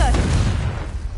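A Confringo blast spell explodes in Hogwarts Legacy as a short, loud, booming burst that fades quickly into a rumbling tail.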